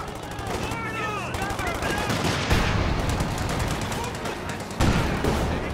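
Gunfire in a World War II real-time strategy game battle, dense bursts of rifle and machine-gun shots crackling almost continuously, with a few heavier reports, while voiced unit callouts speak over the shooting.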